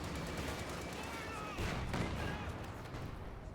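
Bursts of MG42 machine gun fire in a wartime strategy video game, rapid crackling shots mixed with other battle noise in a dense, continuous wash.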